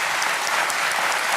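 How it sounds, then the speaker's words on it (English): A late-night talk show studio audience claps loudly and evenly throughout, a dense, continuous burst of applause with no voices on top. "And give him a clap, please."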